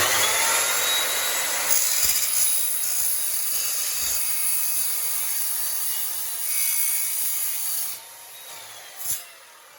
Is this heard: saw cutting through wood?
yes